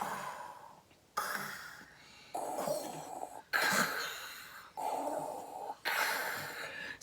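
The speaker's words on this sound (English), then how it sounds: "Can you do a Darth Vader breath for me?" Slow, loud throat breaths in the Darth Vader style of Ujjayi pranayama, six distinct strokes alternating inhale and exhale, each a sustained raspy hiss of about a second, close and alone with brief pauses between.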